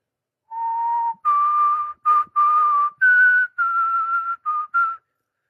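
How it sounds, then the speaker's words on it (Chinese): A lone whistler carries the melody of Auld Lang Syne in a clear, sustained tone, broken into eight separate phrases of varying length with short pauses between them and no other sound. "你们听到那个口哨音了吧"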